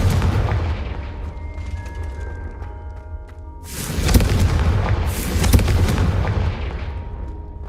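A Confringo blasting spell goes off in the game Hogwarts Legacy, with heavy booming explosions over a low rumbling backdrop, two big blasts in quick succession after a quieter stretch, loud and close.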